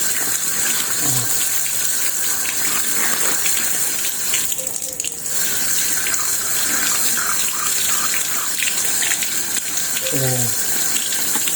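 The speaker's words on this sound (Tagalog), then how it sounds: "hugasan na natin" Loud, steady tap water gushes into a sink while a greasy Epson L18050 printer part is rinsed, the flow running almost unbroken with a brief dip midway, and someone speaks a word or two over it.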